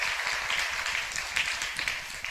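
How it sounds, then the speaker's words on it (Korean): A church congregation at a Sunday service gives a brief burst of dense applause, moderately loud and continuous for a couple of seconds. "인천 박수는 짠 박수고 안산 박수는 후끈한 박수로 박수 한번 쳐주세요."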